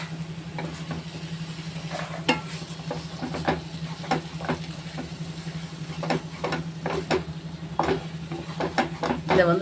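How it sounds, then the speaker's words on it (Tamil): Papaya flower and egg stir-fry being stirred in a pan, with a spatula scraping in repeated short strokes over a steady low hum and faint sizzle, close and moderately loud. "இதை வந்து நல்லா சுருள கிண்டணும்."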